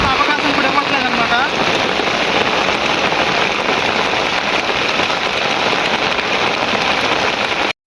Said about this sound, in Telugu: ఈ వర్షం అనేది అవకాశం కూడా ఇవ్వట్లేదన్నమాట